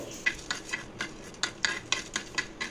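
Chana dal and urad dal frying in a tablespoon of oil on a gas stove, a spoon stirring in regular scraping strokes over a soft sizzle, close and fairly quiet.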